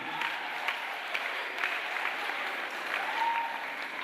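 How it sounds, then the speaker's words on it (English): Steady applause from a crowd fills the whole stretch, dense clapping with no voices over it. "let's give them a round of applause for recognizing our women in society."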